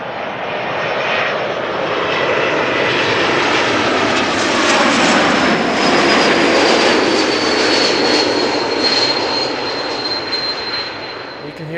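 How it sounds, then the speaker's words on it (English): An Air France Airbus A220 with geared turbofan engines comes in to land at Schiphol, a loud, sustained jet roar swelling and fading over about twelve seconds with a steady high-pitched engine whistle running through it. "We can hear the same whistle as we could with the E2 Embraers. Same family of engines, geared turbofans."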